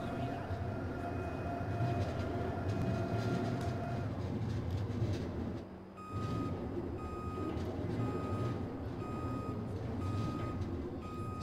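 Ambulance backing up in the Watch Dogs 2 video game, with a steady series of high reversing beeps repeating over loud engine and street rumble, briefly dipping mid-way before resuming.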